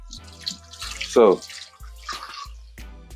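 Water running in a kitchen sink as raw grits are rinsed, a brief louder burst of flowing water mid-clip between quieter stretches of speech.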